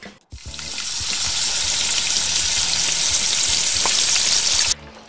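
Chicken wings frying in hot oil give a loud, steady crackling sizzle that starts suddenly and continues for several seconds before stopping abruptly.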